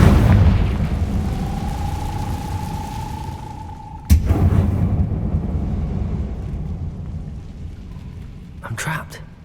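The Confringo fire spell in Hogwarts Legacy sets off a sudden sharp blast about midway, followed by a rolling, rumbling roar over a steady low drone, with another crackling burst near the end.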